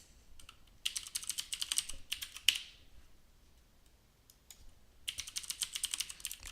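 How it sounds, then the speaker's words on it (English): Typing a password on a computer keyboard: two quick bursts of rapid, crisp key clicks split by a quiet pause, close and faint with no speech. "We could type in our password."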